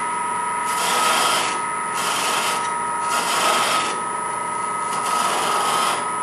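Small turning tool cutting into wood spinning on a lathe while shaping a salt shaker, making a steady close scraping hiss that swells and eases in several passes under a constant motor hum.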